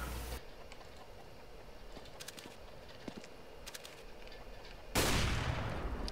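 Gunshots fired through a wall in a Counter-Strike match, a handful of sharp cracks spread across the clip over steady game ambience, followed by a loud, sustained burst of noise near the end.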